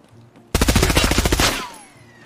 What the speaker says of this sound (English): That's you shooting, right?